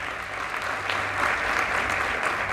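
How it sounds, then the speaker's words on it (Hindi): A rally crowd applauds with dense, continuous clapping that holds steady and slightly swells, with no speech over it. "इसलिए इन सब के लिए जोरदार ताली होनी चाहिए।"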